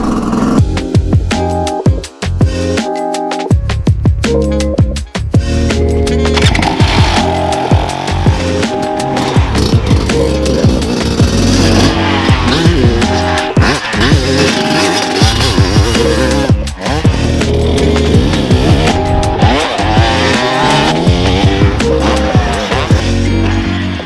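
A 300 cc two-stroke dirt bike, a Yamaha YZ 300 or KTM 300 SX, ridden hard close by, its engine revving and crackling loudly with sharp throttle bursts and gear changes throughout.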